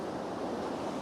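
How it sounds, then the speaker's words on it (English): Ocean waves washing back over rocks at Scarborough South Bay, a continuous broad hiss and rush of surf, steady and fairly close, with some wind noise. "I've got a nice big wave coming in now"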